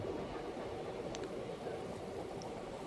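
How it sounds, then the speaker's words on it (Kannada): A passenger train pulls into platform 3 at Mandya station with a continuous close rumble of wheels and carriages, plus a couple of faint high squeals. "ಪ್ಲ್ಯಾಟ್ಫಾರ್ಮ್ ನಂಬರ್ 3ಕ್ಕೆ ನಮ್ಮ ಟ್ರೈನ್ ಎಂಟ್ರಿ ಆಗ್ತಿದೆ ಮಂಡ್ಯಗೆ"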